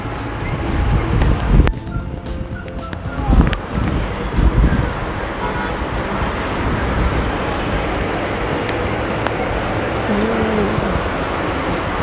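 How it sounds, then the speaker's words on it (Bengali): Heavy rain pours down outside a city balcony in Dhaka in a dense, steady roar, with wind gusts and a brief voice under it. "প্রচুর বৃষ্টি হচ্ছে প্রচুর বৃষ্টি"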